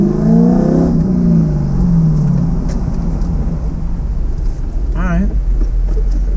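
Car launching with traction control switched off, engine revving hard and rising in pitch, then a second sharp rev burst near the end, loud and close with a constant rumble beneath.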